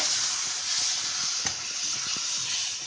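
Tomato puree poured into a hot kadhai of frying onion masala for besan ke gatte, a steady broad sizzle and hiss with a brief splash or scrape midway, close and fairly loud, no voices.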